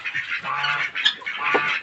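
Several ducks, laying ducks and Muscovy ducks including males, quack and honk while eating freshly cut sweet grass, a steady flock chatter with overlapping calls close by.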